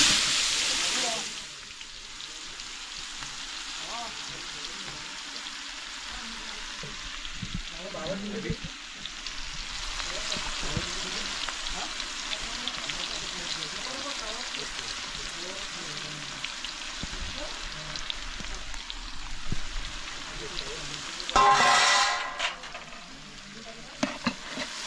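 Onion frying in hot oil for chicken biryani, with a burst of loud sizzling as it goes in, then continuous crackling and stirring scrapes over a long stretch, with people talking now and then.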